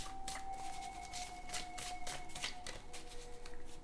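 Tarot cards shuffled by hand in repeated quick riffling bursts, close and fairly steady across the whole stretch, with a faint constant tone underneath and no talking.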